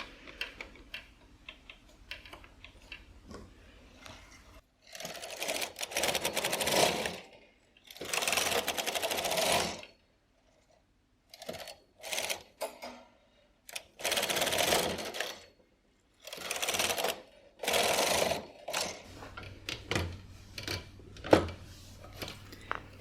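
Domestic knitting machine carriage pulled back and forth across a standard gauge bed while knitting bulky yarn; several loud rasping, clattering passes of a few seconds each, separated by short pauses and lighter ticks, close by with no talking.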